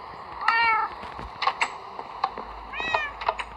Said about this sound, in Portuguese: Olha, já tem um gato.